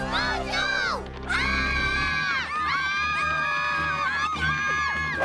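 Cartoon crowd screams and shrieks in loud overlapping voices, with a sustained wail and panicked yelling filling the whole stretch.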